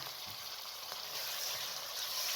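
Minced meat added to a pan with lightly browned onions and spices for aloo keema. A bright, continuous sizzle and crackle up close for a couple of seconds, with no voices.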